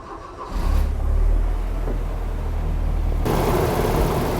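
A Volvo 760 Turbo engine cranks and fires up, then settles into a steady, close idle with a low rumble; a sharper mechanical hiss joins near the end.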